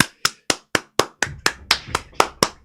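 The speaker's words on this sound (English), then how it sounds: "Let's give a round of applause." Single pair of hands clapping in a slow, even rhythm, about a dozen sharp, close claps with a little room echo between them, alone without talk.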